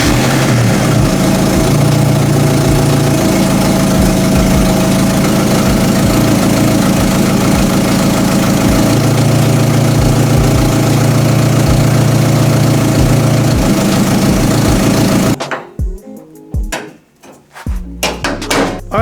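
A Mazda Miata project car idles close by with a loud, steady drone and a regular ticking, knocking pulse. After about fifteen seconds the engine sound cuts away, leaving scattered bumps and rustles.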